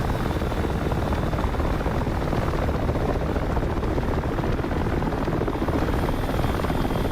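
Helicopter rotor and engine noise from a damaged aircraft in GTA V on a NoPixel server, a steady, loud, dense drone filling the whole stretch without pause.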